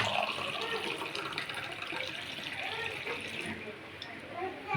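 Water from a Sharp water purifier runs in a soft, steady stream that stays even throughout, fairly quiet and close.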